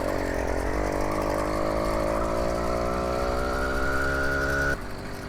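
An 80cc motorized bicycle engine on its first ride, buzzing loud and steady nearby with a rising, whining pitch as it revs, then dropping abruptly near the end.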